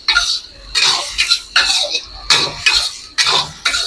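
Lemongrass and ginger tossed in a pan with a metal utensil, giving loud, repeated scraping and clanking strokes in an uneven rhythm, close up with no talking.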